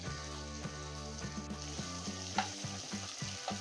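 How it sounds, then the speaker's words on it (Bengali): Spices frying in a pan for an egg tadka, a steady crackling sizzle under a persistent tonal hum, with repeated utensil taps and scrapes as the mixture is stirred; no one speaks. "মশলাগুলো ভালো করে ভাজতে হবে, যাতে কাঁচা কাঁচা না থাকে মশলা।"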